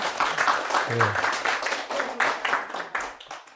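A church congregation applauds to welcome visiting parents, a lively round of clapping with uneven, rippling claps and a brief voice partway through, fairly close and sustained.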